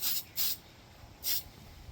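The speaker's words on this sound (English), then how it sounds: "So this red sprays very thin." Tamiya PS2 red spray paint hisses onto a Tamiya Hotshot RC car wing in three short, close bursts, with quiet pauses between them.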